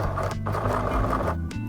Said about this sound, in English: Okay, then we will start to sew.